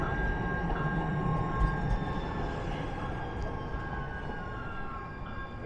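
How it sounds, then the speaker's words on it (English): A light rail train passes through downtown Minneapolis with a continuous broad rumble and faint high tonal squeal, steady and fairly close on a city street, no talking. "a train just passed"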